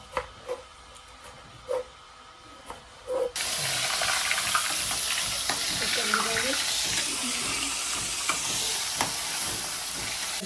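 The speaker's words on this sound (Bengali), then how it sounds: "চিকেন ফ্রাই হইতেছে, আর একটা আমি পেঁয়াজ ফ্রাই করতেছি" Chicken leg pieces and onions fry: a few light knocks come first, then a loud, close sizzle bursts in and crackles on steadily, with no talking over it.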